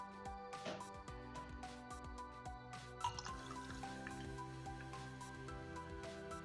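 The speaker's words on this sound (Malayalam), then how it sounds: "വെള്ളം ഒഴിക്കാം." Water trickles and gurgles into a glass while making homemade lemon squash, faint and close, with small drips and bubbling sounds throughout.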